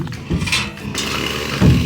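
A chainsaw runs nearby on a mountain outing, its steady engine buzz rising and falling slightly, loud and close throughout with no talk over it.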